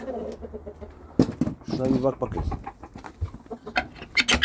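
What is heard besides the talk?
rooster sounds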